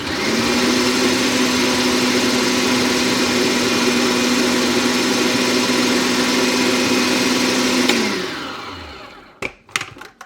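An electric chopper runs continuously at a steady high whir while finely chopping vegetables for homemade dog food, then winds down and stops, followed by a few sharp clunks of the lid and bowl; loud and close, no voices.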